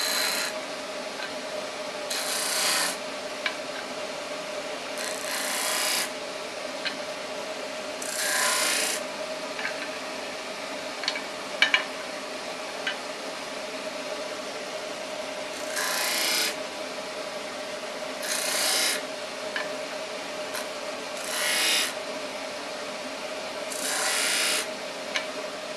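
Glued joints of segmented wooden bowl pieces are sanded by hand in short bursts of rasping strokes, each lasting a second or two, separated by quiet pauses over a steady background hum.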